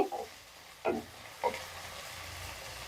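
Ground onion paste being stirred and fried in a pan for a prawn malai curry, a few soft scraping strokes over a steady low sizzle, close and moderately quiet.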